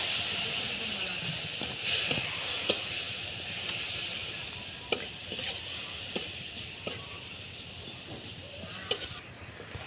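Frying onion and spices with coriander, chilli and salt sizzle and hiss steadily in a pan after a little water is added, with scattered clicks of stirring through the continuous sputter.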